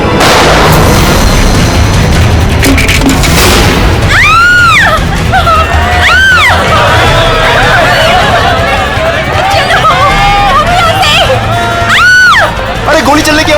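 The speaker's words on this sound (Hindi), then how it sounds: "अरे गोली चलने की आवाज कहां से आई?" A loud, chaotic TV crime drama scene with several sharp booming gunshots ringing out over shouting voices and crowd commotion.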